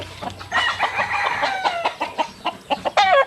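A White Hatch Muff chicken, a gamefowl crossed with White Claret, gives a quick run of clucks and short squawks close by, uneven in rhythm and sharper near the end.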